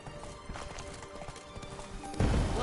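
Roach the horse trots in The Witcher video game, its hooves clip-clopping in a quick, steady rhythm under ambient game sound, then a louder burst of noise near the end.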